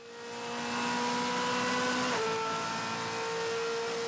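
A Mercedes-Benz DTM race car on track at the Lausitzring in 2006 roars past, engine rising loud and high, then dropping in pitch as it goes by, an intense continuous whine with no voices.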